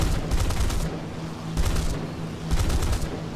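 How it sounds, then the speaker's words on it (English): Aircraft machine-gun fire from a US tier 2 plane shooting down a B-25 in the video game War Thunder: three loud, rapid bursts, each under a second, spaced by short pauses over a steady engine drone. "I'm shooting down this B-25."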